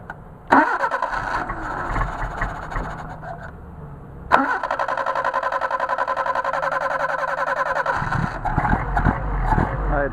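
Mercedes 190SL fitted with Solex carburetors cranks with a whirring starter, then catches and runs with a steady, slightly uneven idle; loud and close, with no talk.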